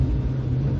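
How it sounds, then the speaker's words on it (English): A 1992 Hyundai Lantra J1 1.6 GLSi automatic accelerating in sport mode, a loud steady low engine rumble heard from inside the car, brief and without talk. "Let's push that for sport mode and see, you know, what tyre bursting acceleration that it offers me."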